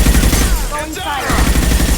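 Gunfire in the video game Mass Effect 2, a burst of rapid shots at the start and again at the end with a brief gap between, loud and close, mixed with game sound.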